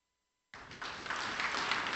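An audience at a keynote talk breaks into a short burst of applause after a moment of silence, the clapping quickly swelling to a dense, steady patter.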